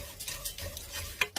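A spoon scrapes and clinks through spices and dehydrated chopped onion in a pan, with a soft sizzle beneath the quiet, uneven stirring strokes and a couple of sharper taps near the end.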